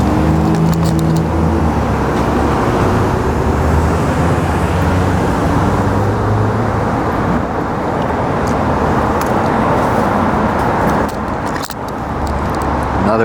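A white pickup truck driving along a road, its engine and tire roar steady and close against traffic noise throughout.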